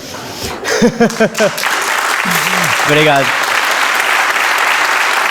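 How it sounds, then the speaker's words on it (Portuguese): Loud, dense applause swells from the audience at an authors' awards gala and carries on steadily, with a nervous voice speaking briefly over the start. "Esta salva de palmas também é para vocês e para a grande família"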